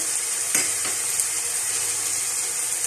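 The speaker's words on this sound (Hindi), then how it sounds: "अदरक और लहसुन के पेस्ट को भूनेंगे।" Steady, bright sizzling of ginger-garlic paste frying in a hot pan, with a couple of soft stirring scrapes early on.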